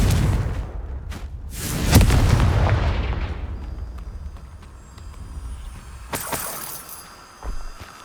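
A Confringo fire spell from Hogwarts Legacy erupts in a heavy booming blast with a crackling tail, then a second sharp burst follows a few seconds later, loud and close amid battle effects.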